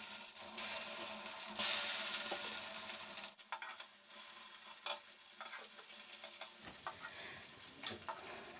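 Small pieces of fish roe coated in chili and coriander powder sizzle and hiss as they fry in hot oil. The crackling is loud at first, then settles into a quieter spatter with occasional stirring.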